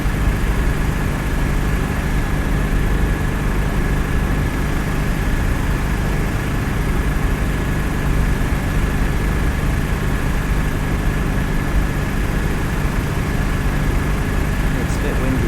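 A light aircraft engine idles with a steady drone at close range on a windy day, with a constant hum and wind-like rumble throughout.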